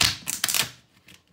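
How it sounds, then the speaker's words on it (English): A deck of playing cards being shuffled by hand, a quick riffle of crisp rapid clicks in bursts, then fading to a few faint soft taps near the end. "you have just successfully shuffled some cards"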